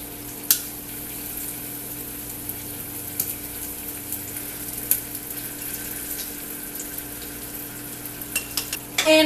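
Butter dropped into hot rum caramel in a pan off the heat gives a faint, steady sizzle and hiss, with a few soft clicks of utensils and a clatter at the close.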